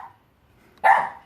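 A single sharp dog bark close by, loud and abrupt after a brief faint sound, set in otherwise quiet surroundings.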